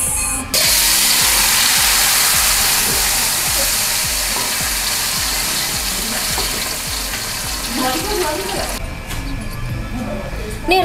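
Ground paste of shallots, garlic, curly chilies, bird's eye chilies and pepper sautéing in hot oil for Padang sauce, a loud, dense, continuous sizzle with rhythmic scraping of a spatula, close up, ending in a brief softer stretch.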